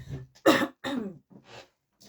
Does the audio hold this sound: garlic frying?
no